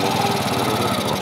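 A small motorcycle engine of a tricycle in Manila, Philippines, chugs steadily and loudly up close, with a rough, pulsing idle throughout.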